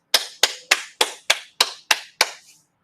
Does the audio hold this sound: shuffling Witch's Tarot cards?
no